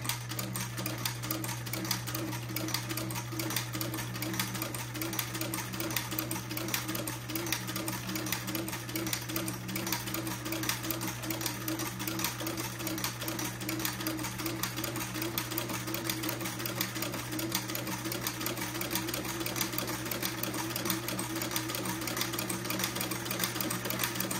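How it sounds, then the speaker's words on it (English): A sewing machine stitches steadily along the fold line of a mint and white dress, giving a continuous fast mechanical whir with a low hum that runs unbroken throughout, close and moderately quiet. "lower my needle so that it's going in at the right place, drop my presser foot, and start sewing."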